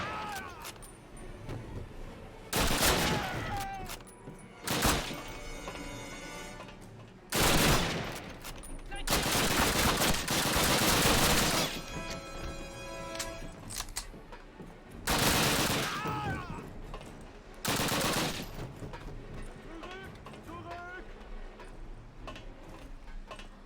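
Gunfire in the Call of Duty video game: repeated loud bursts of automatic fire spread across the stretch, separated by quieter gaps with background game noise and no talking.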